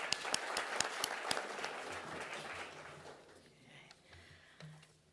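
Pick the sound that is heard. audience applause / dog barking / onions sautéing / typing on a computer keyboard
audience applause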